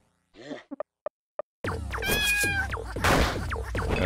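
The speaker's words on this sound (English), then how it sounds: "Let's see if the cat can handle it." A cat meows in the video game Lisa, a few short, separate cries followed by a longer, louder yowl layered over busy game music and effects.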